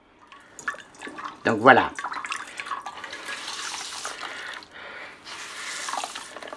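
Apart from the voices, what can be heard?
wringing water out of grated potatoes in a cloth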